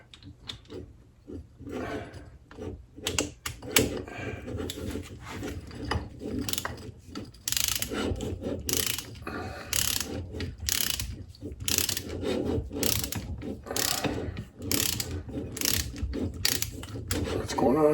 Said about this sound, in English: There's my torque wrench.